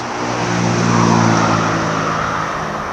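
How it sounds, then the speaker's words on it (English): Loud, continuous road traffic roar, a car engine swelling as it passes close and then easing off, with no talking. "Especially not with the traffic noise."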